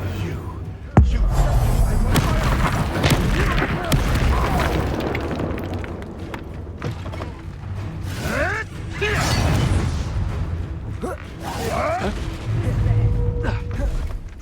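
Combat magic in Hogwarts Legacy, with a sharp bursting blast near the start followed by a continuous churn of whooshes, swishes and rumbling impacts, under intermittent character voices and shouting.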